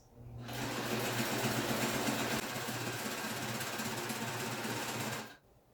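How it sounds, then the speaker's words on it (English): A sewing machine stitches a fabric seam in one steady, fast, whirring run of about five seconds, close up, starting and stopping abruptly, with no voices. "That's how you make a seam."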